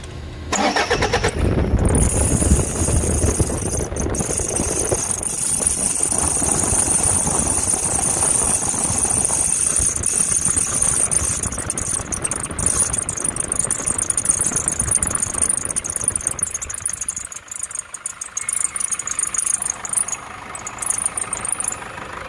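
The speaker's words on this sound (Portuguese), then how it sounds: "Toyota SW4 com barulho de carro velho." Toyota SW4 engine cranking and catching, then idling with a rough rattling, knocking sound like an old car, steady and close for about twenty seconds.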